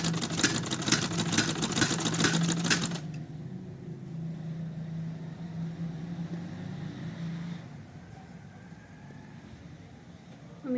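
A sewing machine stitches a baby frock in a fast, loud mechanical rattle lasting about three seconds, followed by a quieter steady hum that fades away.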